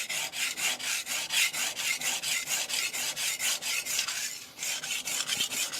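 A blade is sharpened on a DMD resin-bonded diamond plate in quick, regular back-and-forth rasping strokes, close and fairly loud, with a brief pause near the end before the scraping resumes.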